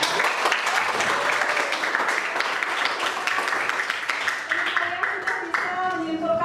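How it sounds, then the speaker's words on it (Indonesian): A classroom of students applauding a classmate, a dense burst of many hands clapping together that holds steady and then thins out, with voices talking over it. "Berikan aplaus kepada teman kalian."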